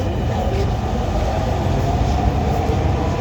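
A Dhaka metro rail train rides along as a continuous close, dense rumble with faint rhythmic rail clatter and no talking.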